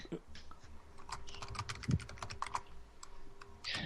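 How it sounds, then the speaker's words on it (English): Rapid keystrokes clatter on a computer keyboard in an irregular, close burst, with voices talking faintly underneath. "You were typing"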